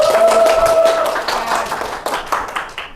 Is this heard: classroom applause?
yes